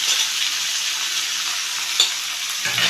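Cluster beans are tipped into a pan of frying onions and curry leaves. A loud, steady sizzling hiss runs throughout, with a brief clatter near the end.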